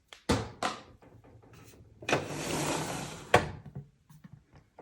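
A wooden cosmetics drawer is handled in a makeup storage unit: a few knocks and thunks, then a long sliding rub, followed by a sharp close thump and light clicks, all close and fairly quiet.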